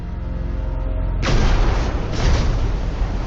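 Torpedo explosions strike a ship in a documentary sound effect, a low rumble giving way to a heavy booming blast and a second rolling surge of roaring noise.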